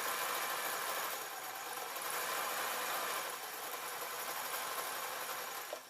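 A sewing machine stitching fabric on a bear hat, a steady, close, continuous mechanical whirr that holds level throughout and cuts off at the end.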